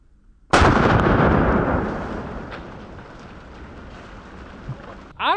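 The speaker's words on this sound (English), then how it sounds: "I don't think I've ever shot a watermelon that close with a 4570." A single loud 45-70 rifle shot fired with a 325 grain Hornady FTX round into a watermelon at close range, a sharp blast followed by a long, slowly fading rumble, with no talking.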